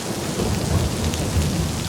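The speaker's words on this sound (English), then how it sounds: "Rain." Steady, dense rain pours down in a continuous, even wash of patter with no voices, close and moderately loud throughout.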